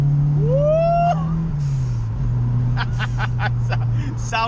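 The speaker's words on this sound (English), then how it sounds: "When this thing comes on boost, it is just like a symphony of glory is what I'm going to call it." A Series 1 RS Turbo car's engine pulls hard on boost in third gear up a hill on a B road, a steady loud drone with rising whistles and chirps, while a voice talks over it.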